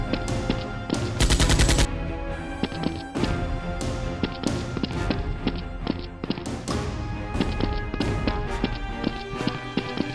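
Nerf guns fire during a staged action fight scene, with rapid dense bursts of sharp clacks and pops. Punchy impacts and hits are layered over a heavy soundtrack throughout.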